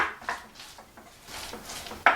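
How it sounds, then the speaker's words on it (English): A spatula smushing softened butter into a paleo sweet potato casserole topping, heard as soft, repeated scraping strokes at a low level, ending with one sharper knock against the bowl. "I'm just trying to smush that butter. Because my butter was out and softened, it's just mixing really easily with my spatula."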